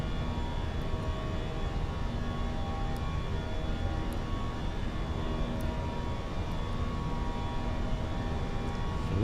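A Fenix A321 airliner with IAE engines rolls for takeoff in Microsoft Flight Simulator 2024, a steady loud engine roar and broadband rumble with whining tones holding constant throughout, no voices.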